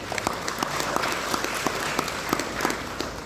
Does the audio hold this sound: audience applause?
yes